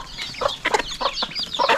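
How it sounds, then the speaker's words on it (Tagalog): Rhode Island chickens on a backyard farm cluck in short, close bursts, several soft calls overlapping over a quiet background. "Unti-unti nang bumabalik yung ating mga manok."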